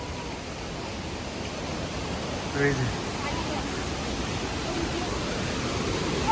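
A river rushes below a suspension bridge on the Goechala trek between Yuksom and Sachen in Sikkim, a constant broadband roar, with a voice briefly heard partway through.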